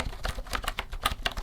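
Typing on a mint green keyboard with white keys, producing a steady run of soft, close clicks and taps at a quick, slightly uneven rhythm with no talking.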